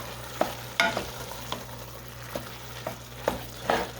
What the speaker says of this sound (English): I'm going to go ahead and kind of stir that up.